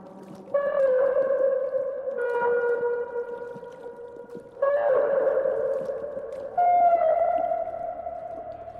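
Long, mournful whale-like calls in the horror game Mouthwashing, four or five drawn-out tones that swell and hold, echoing and eerie, with no talking.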